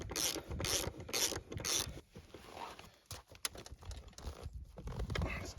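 A ratchet tightens a bolt on the rear suspension of a 2001 Yamaha Venture/SXR 600 snowmobile: four quick raspy bursts of clicking, followed by quieter scraping and rubbing of tools nearby.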